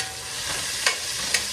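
Garlic sautéing in a hot pan for chicken pochero, a close steady sizzle with two sharp stir clicks, no one talking.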